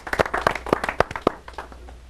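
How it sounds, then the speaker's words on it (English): Sparse clapping from a small audience welcoming two guests to a television debate show, a handful of distinct claps thinning out within a couple of seconds. "Let's give them a huge round of applause."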